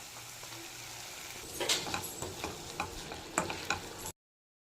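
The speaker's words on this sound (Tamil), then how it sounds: "ஸோ அந்த பட்டர்லேயே இது நல்லா சாட்டே ஆகட்டும்" Vegetables and peas sauté in butter, with a soft continuous sizzle and a series of light scraping and tapping stirs that grow more frequent partway through before the sound cuts off.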